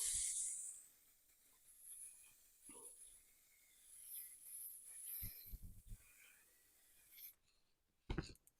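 A short, loud hiss of aerosol varnish sprayed onto model railway scenery bursts at the start, followed by faint rustling and a few soft knocks with no talking.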